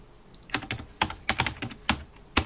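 Someone types a username on a computer keyboard, a run of distinct close key clicks in irregular bursts with short pauses between them.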